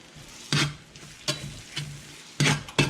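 Two eggs seasoned with salt and pepper cooking in a Lodge cast iron camp skillet with onions and mushrooms, a quiet sizzle broken by several sharp scrapes and taps of a utensil against the pan.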